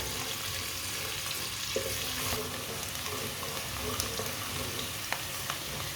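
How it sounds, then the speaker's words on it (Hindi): Finely chopped onion fries in oil in a home kitchen pan until lightly browned, a steady sizzle with occasional stirring clinks and light scraping, close and continuous. "एक बरीक कटा हुआ प्याज, प्याज को हल्का सा ब्राउन कर लेंगे।"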